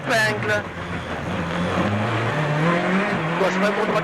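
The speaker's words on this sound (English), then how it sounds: "Look at how the conditions improve as the cars descend out of the Alps, and Loeb is not holding anything back." Rally cars on a Monte Carlo Rally stage in the 2004 WRC, descending out of the Alps, engines revving and shifting through changing pitches under continuous talk.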